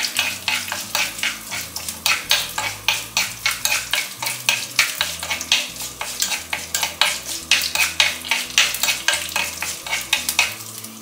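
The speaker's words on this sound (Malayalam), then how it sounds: "ഇതിന് വേണമെങ്കിൽ ഒന്ന് മീഡിയം ഫ്ലെയിം ആക്കിയിട്ട് ഒന്ന് ജസ്റ്റ് ഒന്ന് ഇളക്കി കൊടുത്തോണ്ടിരിക്കുക" Green chillies stirred and fried in a pan over medium flame for a green chilli pickle, with a steady rhythmic scrape of the spoon roughly every half second over a continuous close sizzle.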